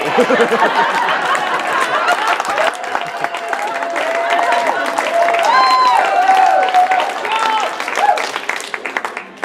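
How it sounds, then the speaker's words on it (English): Audience applause and chatter at a stand-up comedy set during a writers' workshop, a steady loud wash of clapping mixed with laughter and crowd murmur for several seconds. "Stop clapping, I'm not done"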